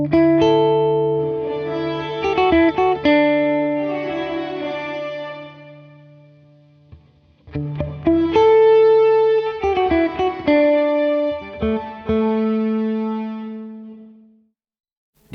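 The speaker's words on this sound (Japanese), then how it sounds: "自然にちょっとだけ響きをつけたい場合なんかはプリディレイを長めにすると分離が良いサウンド。" A guitar run through a Strymon Cloudburst reverb pedal with pre-delay plays sustained chords and picked notes whose tails bloom into a lush, shimmering wash, ringing out before fading to silence, with no talking.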